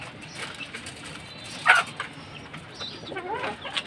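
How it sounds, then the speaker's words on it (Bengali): Egg-laying hens kept alongside pigeons cluck softly in a coop, with one sharp louder squawk near the middle and scattered quieter calls around it, close by and without talk. "সবগুলাই ডিম পাড়া মুরগি, সবগুলাই ডিম পাড়ে"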